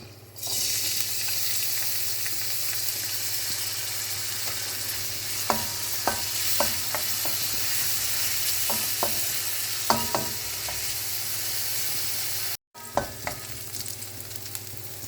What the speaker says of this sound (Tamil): அங்கிட்டு எண்ணெய் சூடாயிடுச்சு. கொஞ்சோண்டு சின்ன வெங்காயம், பூண்டு, பச்சை மிளகா சின்னது கொஞ்சம்,